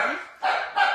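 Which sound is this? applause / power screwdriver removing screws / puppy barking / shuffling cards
puppy barking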